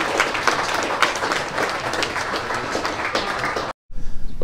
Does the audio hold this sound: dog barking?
no